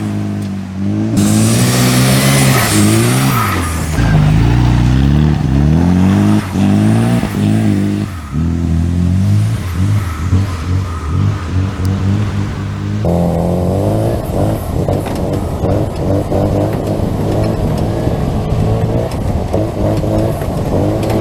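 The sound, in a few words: Volvo twin turbo redblock buggy engine revving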